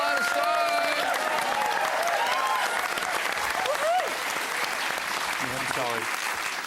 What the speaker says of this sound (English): A round of applause for Alana Stone